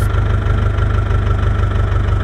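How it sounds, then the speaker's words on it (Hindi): A Preet tractor engine in the Indian Tractor Simulator video game idles with a loud, steady low chugging throb that stays even throughout. "और ये रहा हमारा प्रीट ट्रैक्टर"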